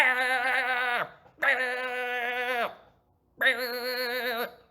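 A person's voice imitates a billy goat, giving three wavering, nasal bleats in a row, each about a second long and close to the ear, with short pauses between them.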